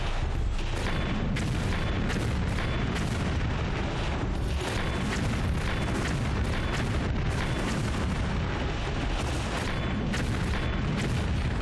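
Explosions in the Tomb Raider III video game boom in a dense, relentless barrage, loud heavy blasts and bursts following one another with no pause throughout.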